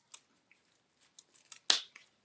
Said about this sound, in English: I'm just taking a pair of scissors and cutting it.